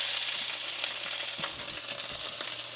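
Salmon fillet laid skin side down in a hot pan sizzles steadily and close, a constant crackling fry with light spatters and no voices.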